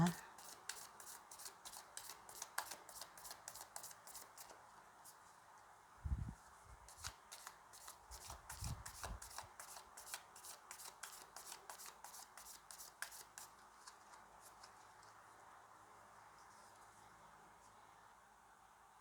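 Magic of Paper tarot cards being shuffled by hand: rapid crisp flicking clicks in dense bursts, broken by a couple of soft low thumps midway, then lighter scattered card sounds.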